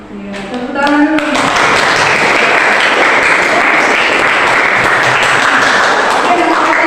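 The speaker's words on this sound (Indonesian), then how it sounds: "Tepuk tangan dulu." A classroom applauds during a teaching practice session at an Indonesian university, with dense, even clapping that swells quickly after a brief voice at the start and holds steady and loud to the end.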